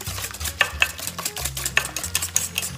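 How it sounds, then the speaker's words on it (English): Two eggs are beaten by hand into apple cake batter in a bowl. Quick, rhythmic stirring strokes clack and scrape close by without pause, with no voices. "Now we're gonna beat in our 2 eggs."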